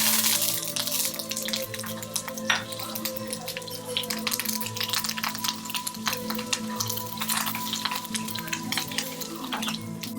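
Dry red chillies and curry leaves frying in a little coconut oil, giving a steady, close, crackling sizzle with sharp pops throughout and no talk.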